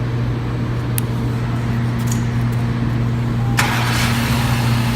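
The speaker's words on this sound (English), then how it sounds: "And then the car will start right up for you." A 2018 Acura TLX engine starts by remote start, settling into a steady low idle hum with a brief higher rush as it catches, heard alone without talk.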